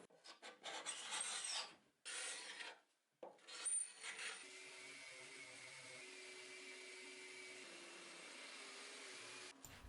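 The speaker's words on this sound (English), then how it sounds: "I was able to scrape it and sand it off" Hand sanding strips the old top coat from wooden drawers, making scratchy rasping strokes that start in short bursts with brief pauses and then settle into a steadier, quieter rubbing.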